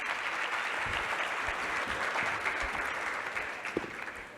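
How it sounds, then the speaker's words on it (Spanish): Steady, dense applause from a conference audience after the introduction of a venture capital panel at the PVCC22 event, continuous and fairly even throughout with no break. "Un fuerte aplauso."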